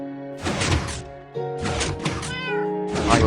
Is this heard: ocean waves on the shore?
no